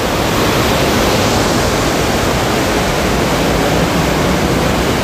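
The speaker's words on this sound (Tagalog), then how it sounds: "Lakas ng tubig dito nun." Floodwater rushes at Wawa Dam after Typhoon Ulysses. The roar is loud, dense and unbroken, like heavy water pouring over and through the rocks, and no voices are heard.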